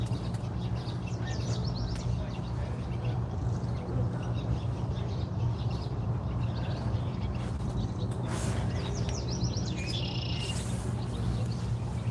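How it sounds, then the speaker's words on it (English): Faint birds chirp now and then in the distance over a steady low hum of outdoor ambience aboard a boat, with a few brief brighter calls standing out. "I hear the birds"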